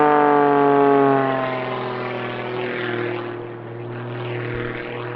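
A highly modified Pitts S-2E aerobatic biplane performs a display at the Midlands Air Festival 2021, its loud, steady engine drone droning on with pitch sweeps as it passes and turns, with no voices.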